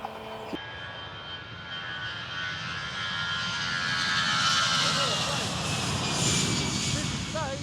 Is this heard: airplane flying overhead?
yes